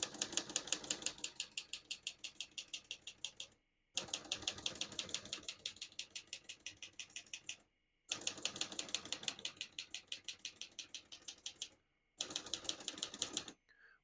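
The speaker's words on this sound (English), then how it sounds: "We're going to keep that on single for now and finish typing." Brisk typing on a 1967 Olivetti Lettera 32 portable typewriter, rapid steady key strikes in four long runs split by brief pauses, close and crisp with no voices.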